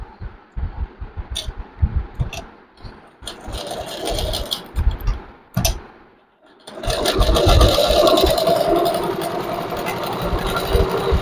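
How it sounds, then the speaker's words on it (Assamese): A sewing machine stitches a mekhela, starting with short bursts of rapid rhythmic needle chatter and pauses, then running in a long, loud, steady whir close by. "এতিয়া খুব ধুনীয়াকৈ গোটেইখিনি চিলাই দিম।"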